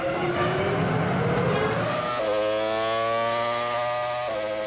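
A 2001 Formula 1 car engine at the French Grand Prix at Magny-Cours, failing as it runs out of power: a loud high engine note sags, then briefly revs back with a steady droning tone before fading.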